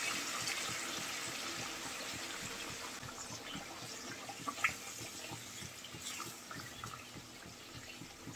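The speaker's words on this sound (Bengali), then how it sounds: "ঝোলের পানি দিয়ে দেব। আমি আবারও গরম পানি নিয়েছি এখানে।" Hot water poured into a pot of beef curry with potatoes and whole garlic, a steady, close splashing gush running for the whole stretch with a brief brighter spatter midway.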